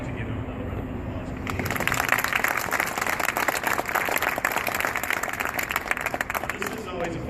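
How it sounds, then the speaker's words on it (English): An audience applauds Dan Walker at a grant presentation ceremony, with scattered clapping that builds after a moment into steady, close applause and keeps going to the end. "So I would love to give him another round of applause."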